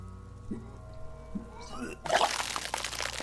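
A character in the detective role-playing game Disco Elysium retches and vomits, a few gagging heaves followed by a loud wet splatter onto the ground.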